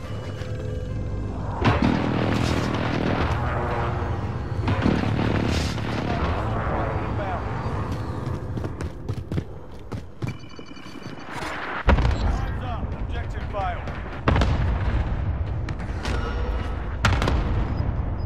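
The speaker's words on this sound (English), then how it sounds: "friendly precision airstrike inbound" Precision airstrike explosions in Call of Duty Warzone: a series of heavy booms and blasts roll in one after another over about eighteen seconds, with sharp gunshots scattered between them and players talking over the barrage.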